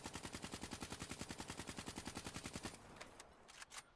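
Rapid burst of automatic fire from the KN44 assault rifle in Call of Duty: Black Ops III, a steady even rattle of about two dozen shots for nearly three seconds, then a few scattered clicks and thumps.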